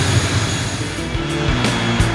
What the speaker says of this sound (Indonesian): Sesaat setelah pesawat mendarat,